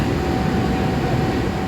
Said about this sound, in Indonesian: lokomotifnya sudah terdengar ya, tadi sudah terpasang, ceklek gitu bunyinya.